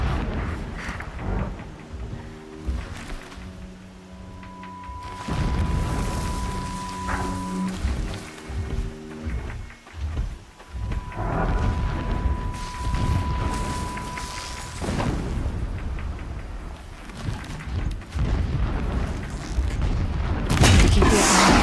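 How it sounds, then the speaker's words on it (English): Deep booming explosions rumble in the distance in the video game Horizon Zero Dawn, layered with game music tones and ambient noise, repeated dull blasts across a long stretch. "Explosions in the distance."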